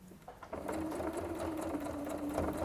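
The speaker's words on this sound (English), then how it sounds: "So we're just going to carry on stitching all the way around the outside." Sewing machine stitching around the outside edge of fabric, a steady continuous mechanical whir with a rapid needle rhythm, loud and close throughout, with no talking.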